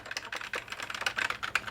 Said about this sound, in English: this is an ADB keyboard.